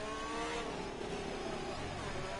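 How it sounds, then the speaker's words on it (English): Race car in a sim racing game at the Azerbaijan circuit, engine revving hard with a bit of wheel spin accelerating out of a corner, loud and continuous with faint talk underneath. "bit of wheel spin as you can hear in the car"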